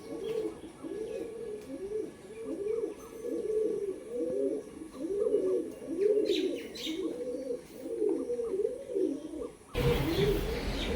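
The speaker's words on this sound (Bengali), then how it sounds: "মেল পায়রা।" A male red Madras pigeon coos in a steady series of deep, rolling phrases, close by, with light chirping behind it and a sudden burst of noise near the end.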